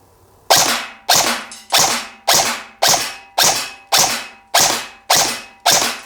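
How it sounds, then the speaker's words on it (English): A KWA Ronin TK.45 airsoft rifle fires nine sharp, evenly spaced shots at a steady semi-automatic pace, each a loud close crack with a short decaying tail. "So we are now going to shoot above the ring here."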